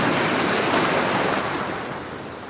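Sea waves wash onto the shore in a broad, steady roar of surf that swells and then slowly eases off. It sounds loud and close, with some wind and no voices.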